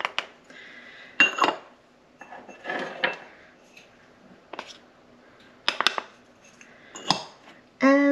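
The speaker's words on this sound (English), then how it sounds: "Sometimes it likes to stick in the bottom of these bowls, so I just scrape it out a little bit." Utensil scraping against the bottom of a mixing bowl to loosen stuck baking powder and baking soda while making lemon pancakes: several short, close scraping and clinking bursts with quiet pauses between them.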